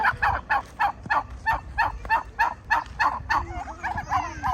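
Turkeys gobble in rapid repeated bursts, about a dozen rhythmic calls close by at a rural homestead in Savannakhet, Laos, with low background rumble and faint voices.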